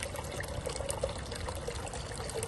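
Water pours and trickles steadily through a micron gold sluice machine used to catch fine gold, a continuous close splashing flow with no voices.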